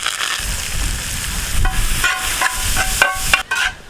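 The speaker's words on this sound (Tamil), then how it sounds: "எண்ணெய் சூடாயிருச்சு. இப்போ ஒரு கொத்து கருவேப்பிலை 800 கிராம் பெரிய வெங்காயத்தை போட்டுக்கலாம்." A bunch of curry leaves and 800 g of large onions hit hot coconut oil for Kerala-style chicken pollichathu. A close, continuous sizzle is broken by sharp clatters of stirring.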